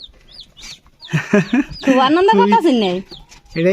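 A chicken clucks loudly and repeatedly at close range, the calls rising and falling in short bursts with a brief pause between them.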